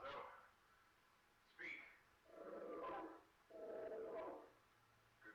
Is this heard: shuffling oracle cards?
no